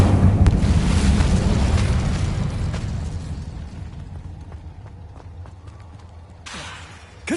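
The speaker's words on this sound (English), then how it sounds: "Incendio." An Incendio fire spell is cast in Hogwarts Legacy, a loud, roaring burst of flame that slowly fades over several seconds, followed by a brief crackling flare near the end.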